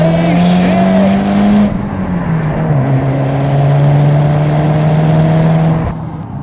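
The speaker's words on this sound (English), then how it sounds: "It's just noise and drama and the chittering of the wastegate." A Toyota Celica GT-Four rally car engine drones loud and close, pitch rising and dipping through gear changes, with turbo wastegate chatter and a sharp drop-off near the end.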